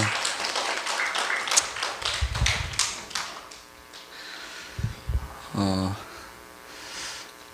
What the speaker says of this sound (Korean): 우리 수고하신 선생님들께 박수 한번 줄 수 있을까요?